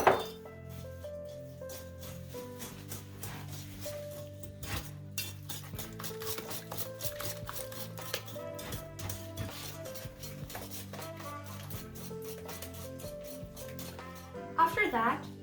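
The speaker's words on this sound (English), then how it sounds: "you'll beat the eggs and the sugar together" Eggs and sugar being beaten together in a bowl for pizzelle batter, a steady run of rapid whisking and clinking against the bowl, close and continuous, with a person talking over it.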